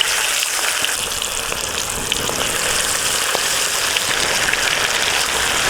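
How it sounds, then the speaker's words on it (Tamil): Chicken pieces coated in egg and crushed Lay's chips deep-frying in oil in a village kitchen, a loud, steady, close sizzling crackle like heavy rain, continuous with no talking. "இப்போ அப்படியே எண்ணெயில் போட்டு பொரிச்சு எடுத்துக்கலாம்."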